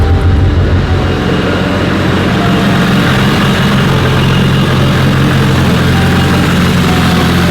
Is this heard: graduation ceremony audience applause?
no